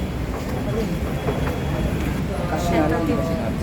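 Inside LRT Recto station in Manila, steady rumble and rail noise of a train fill the space with a continuous low roar, while people talk nearby throughout.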